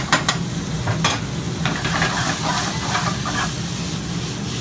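Lamb sautéing in a pan, a steady close sizzle and hiss with a few sharp clicks of a utensil stirring against the metal, continuous and fairly loud with no voices.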